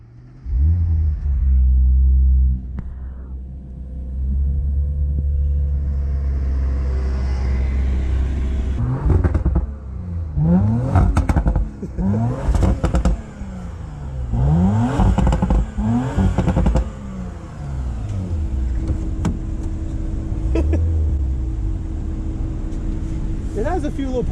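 An Audi RS 5 engine idles with a deep exhaust rumble, then revs repeatedly in sharp rising bursts, with voices talking over it.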